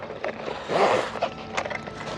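Zipper on a fishing rod bag with two zips being pulled open, a short scraping rasp that rises in the middle, with faint handling noises around it.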